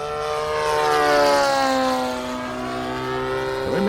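A Hangar 9 20cc P-47 RC model plane flies past, its gas engine drone rising and then sweeping down in pitch as it banks, fairly close and loud, with no talking.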